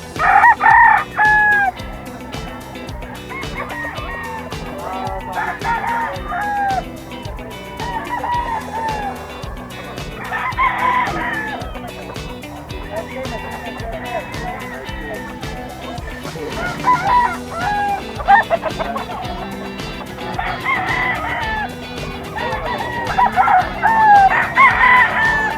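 Kelso Henny gamecocks at a pet market crow repeatedly, several loud, near calls rising over a busy, clattering market din with no talk.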